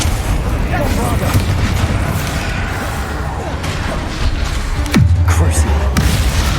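A Bombarda explosion spell booms in Hogwarts Legacy gameplay, loud blasts and crashing over constant combat noise, with one heavy low impact near the end.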